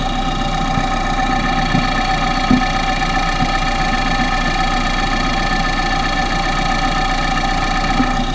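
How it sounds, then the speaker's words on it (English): A car engine with an unidentified internal noise runs steadily up close, a constant droning hum with a faint rhythmic ticking and knocking underneath, loud and unbroken throughout. "That's actual noises you hear going in the engine."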